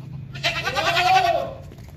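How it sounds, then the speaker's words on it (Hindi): A large male goat at a livestock sale bleats once, a loud, wavering cry lasting about a second, close by with faint background noise. "ये 20 नंबर वाला बकरा है, बड़ा लंबा बकरा है।"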